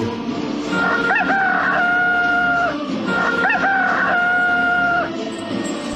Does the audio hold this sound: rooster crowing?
yes